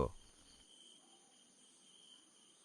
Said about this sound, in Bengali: শুধু ঝিঝি পোকার ডাক ছাড়া কিচ্ছু শোনা যাচ্ছে না